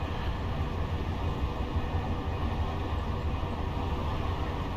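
A Class 57 freight locomotive in Train Simulator running steadily, its low diesel rumble and rolling rail noise holding at an even, continuous level without a break.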